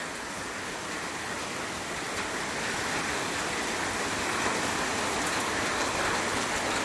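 Heavy rain pours steadily, a dense, continuous hiss of drops hammering surfaces that builds slightly louder toward the end.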